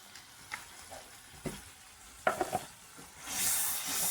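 Dry chili powder and spices fry in a pan, with scattered stirring scrapes and clicks that build into a louder, steady sizzle near the end. The sounds are close and there is no talking.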